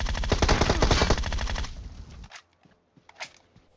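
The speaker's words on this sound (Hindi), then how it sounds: "मैं भी गोली चलाए जा रहा हूं" Rapid automatic gunfire in PUBG Mobile rattles loudly for about two seconds, then stops, leaving a few scattered faint shots and clicks.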